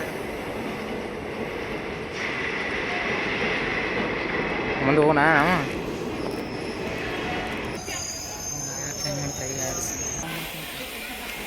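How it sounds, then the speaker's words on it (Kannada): A passenger train on the Badami route rolls past, its wheels letting out a rising, wavering metallic squeal over a steady rumble and hiss, with a person speaking briefly nearby. "ನೋಡ್ರಿ ಇಲ್ಲೊಂದು ಟ್ರೈನ್ ಹೊಂಟದ ನೋಡ್ರಿ."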